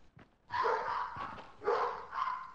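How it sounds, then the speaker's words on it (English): Dogs barking in a Fortnite match: a few loud, close bark bursts in quick succession, then two more separate barks, with no talk over them. "And doesn't help these retarded ass dogs keep barking."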